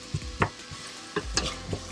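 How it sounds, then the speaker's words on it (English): Mirepoix with onions sautéing in a pan for homemade tomato sauce, soft sizzle under a series of short stirring scrapes and clicks, close and fairly quiet. "we're gonna saute our mire pois here until we just want the onions to get translucent"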